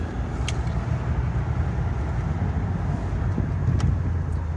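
A 1978 Lincoln Mark V cruising steadily at road speed, with a continuous low engine and tyre rumble close inside the car and no voices.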